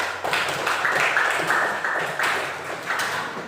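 Applause from a class of students in a lesson, a dense, steady patter of many hands clapping together for about three seconds, fairly loud and close, with no talking over it.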